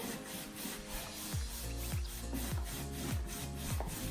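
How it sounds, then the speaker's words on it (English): Chalk paint brushed roughly onto wooden furniture, a close, continuous bristly scrubbing in repeated back-and-forth strokes roughly every half second, faint with no talking. "just give it a really rough coat of chalk paint"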